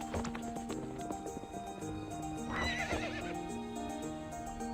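A video game horse neighs loudly and close, with hooves clopping around it, all over a low background drone.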